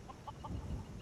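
A chicken at a farm in the video game Skyrim, with three quick clucks close by over a low ambient background.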